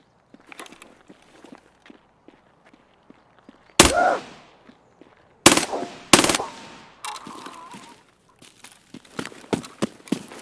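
Gunfire in a video game: a few loud, sharp shots stand out among scattered quieter pops and faint footsteps, with long decaying tails and gaps between bursts.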